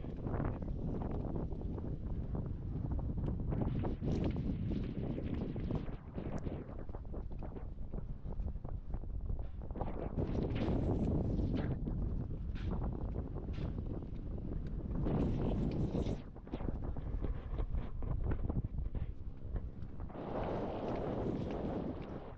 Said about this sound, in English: Super windy on this side compared to inside of the bay.